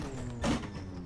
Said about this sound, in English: That gear clunk in this car is super cool.